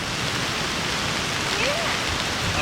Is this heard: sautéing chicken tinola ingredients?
no